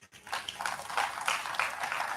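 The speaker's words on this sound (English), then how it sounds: "Please, can we give her a round of applause?" A seminar audience gives Mrs. Drake of Hybrid Group a round of applause, scattered hand-clapping swelling after a brief pause, fairly quiet and roomy, with no speech over it.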